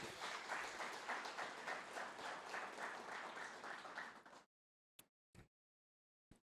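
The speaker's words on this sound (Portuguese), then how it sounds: "Dê para Jesus uma forte salva de palmas" A church congregation applauds for Jesus during a pastor's sermon, a dense, steady roar of clapping for about four seconds that stops abruptly, followed by a few scattered lone claps.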